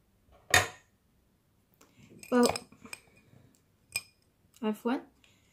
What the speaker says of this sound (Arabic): الآن أصدقائي سأقوم بتصفية الخليط كما تشاهدون